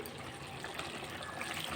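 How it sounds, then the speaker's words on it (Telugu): Water pours into chicken curry in a pressure cooker, a continuous soft gushing splash that holds steady for the whole short moment, with no talk over it. "కొద్దిగా వాటర్ అయితే వేసేసుకో"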